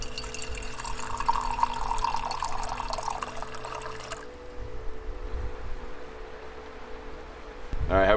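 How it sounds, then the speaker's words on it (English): A DIY pressurized camping water jug dispenses water at the press of a button, giving a steady rushing stream for about four seconds before it eases into a softer trickle, with a brief voice near the end. "You just press a button and you got water on demand."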